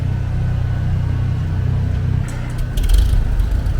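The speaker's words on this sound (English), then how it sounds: "I love these old farmalls from the 1960s. This is a 1206." A 1960s Farmall 1206 tractor engine runs with a steady low rumble at an antique tractor show, nearby and continuous, growing slightly louder and rougher near the end.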